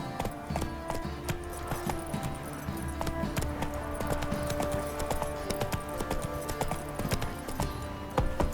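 The horse Roach gallops in Witcher 3, a fast, rhythmic clip-clop of hooves on ground, steady and close, with faint game ambience underneath and no voices.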